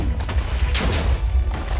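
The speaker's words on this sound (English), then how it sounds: "there's explosions everywhere" Explosions in modded Minecraft Lucky Blocks gameplay, a dense run of low booms and thuds with a few sharper bursts, loud and continuous.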